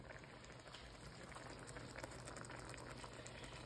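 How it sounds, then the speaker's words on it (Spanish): Tomatoes sauté in a pan for a chicken fricassee soup, giving a quiet, steady bubbling sizzle that stays even throughout, close and faint with no voices. "Miren, está comenzando ya a sofreír los tomaticos."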